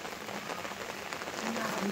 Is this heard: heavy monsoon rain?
yes